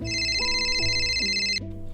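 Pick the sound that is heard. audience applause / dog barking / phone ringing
phone ringing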